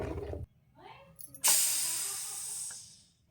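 A pressure cooker holding potatoes, black chickpeas and green peas for sambar lets out a sudden loud burst of steam, a sharp hiss that fades over about two seconds, just after some faint low voice sounds.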